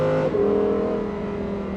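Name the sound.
Lamborghini engine revving with exhaust valves closed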